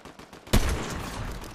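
A single loud gunshot cracks in a Fortnite duo builds match, with a short rumbling tail that fades over about a second.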